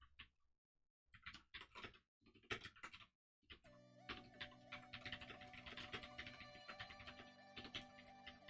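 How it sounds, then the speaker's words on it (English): Computer keyboard typing in quick bursts of close, crisp keystrokes separated by short pauses, followed by steady continuous typing over a faint hum. "Whatever, I'll just type it."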